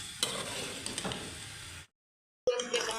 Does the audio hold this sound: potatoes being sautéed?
yes